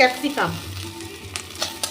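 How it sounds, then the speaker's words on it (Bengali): Capsicum fries in a pan with ginger and green chilli, giving a soft, steady sizzle with a few brief scraping stirs near the end. "ক্যাপসিকামটা আর একটু ভেজে নেব"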